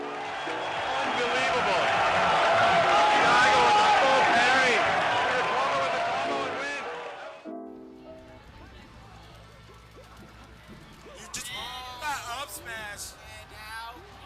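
A large esports event crowd roars and cheers loudly at full swell for several seconds, then fades as a commentator's excited voice takes over.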